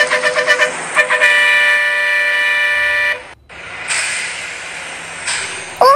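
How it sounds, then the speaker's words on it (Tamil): A school bus horn honks outside: a few short toots, then one long sustained blast that cuts off, followed by a second louder, harsher horn blast nearby, with no voices. "பஸ் ஹாரன் சத்தம் கேட்குது பாருங்க."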